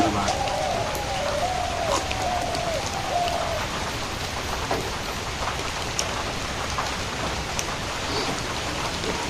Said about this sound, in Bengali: গুড়ি গুড়ি বৃষ্টি হতেছে